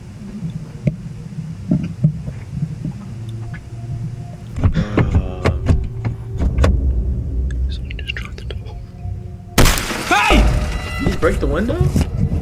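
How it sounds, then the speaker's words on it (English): Van window smashed in the dark around 2:30 at night: a sudden loud crash and shatter near the end, after muffled thumps and rustling, with a low whispering voice through the clip. "Did he break the window?"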